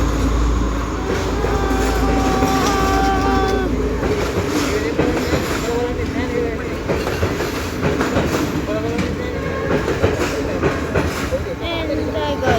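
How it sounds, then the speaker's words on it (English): A train passes close by on the tracks near Kiri Mandala Mawatha, loud steady rumble with clickety-clack wheel rhythm and faint squeals, sustained throughout with no one talking. "So there goes the train."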